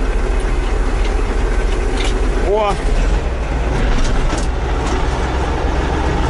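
A T-150 tractor engine runs in a quarry with a steady, loud, low mechanical drone, and a man gives a brief exclamation partway through.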